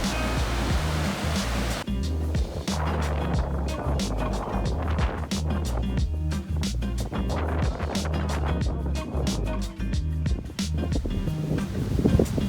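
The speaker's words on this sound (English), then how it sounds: "now it's like a chocolate waterfall" Muddy floodwater after heavy rain pours and churns continuously down a nearby waterfall at Havasu Falls, a heavy, turbulent roar with crackling splashes throughout.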